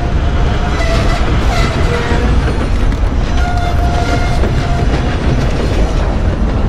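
Train rolling along in Red Dead Redemption 2 online, a loud, steady rumbling wash of wheels and carriage noise that fills the whole stretch without pause, with no talk over it.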